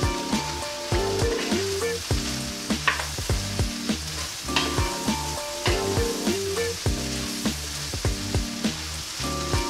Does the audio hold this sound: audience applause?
no